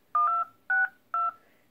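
Three short, crisp phone dial pad tones play the opening notes of Never Gonna Give You Up, evenly paced and heard alone.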